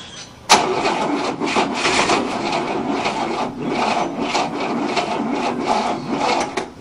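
A 1967 Cadillac engine that has not started in 30 years cranks continuously after a sharp onset, a loud, rough, rhythmic grinding churn from the starter that never catches, with no voices.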